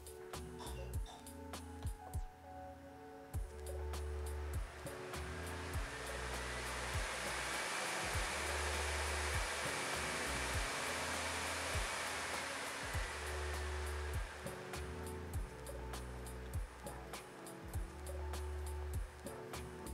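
Steady broadband whoosh of MSI GT73VR gaming laptop cooling fans spinning at maximum, with faint ticking and clicking scattered throughout; constant and fairly close.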